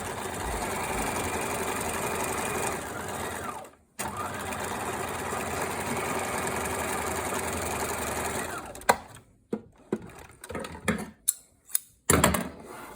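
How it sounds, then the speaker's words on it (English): A sewing machine sews the seam of a skirt in two long steady runs of close, even whirring with a brief stop between, followed by scattered clicks and handling sounds. "Needle down, turn around, and now seam the rest of the skirt."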